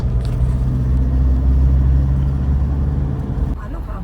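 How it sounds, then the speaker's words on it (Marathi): A car on a highway road trip, heard from inside the cabin as a steady, loud low engine and road rumble that eases slightly near the end. "चालते गाडी"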